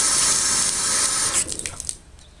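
Hot water runs steadily from a tap fed by a gas water heater, then shuts off, leaving a few brief drips and splashes before quiet.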